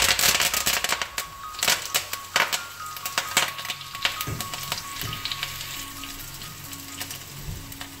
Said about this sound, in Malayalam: ചെറിയ ഉള്ളി അരിഞ്ഞിട്ട് കൊടുക്കാം.